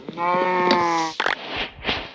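A Minecraft cow lets out one loud, close, drawn-out moo, followed by a couple of short game noises.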